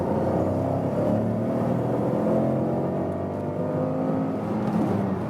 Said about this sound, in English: let's find some acceleration difference. 50 kilometers to 90.